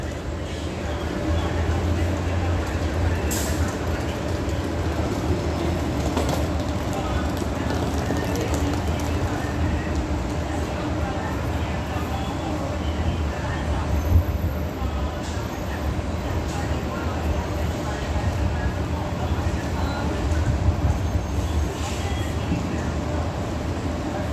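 A Washington D.C. Metro train runs underground through tunnels, making a steady, loud rumble with rhythmic clatter from the wheels that carries on throughout.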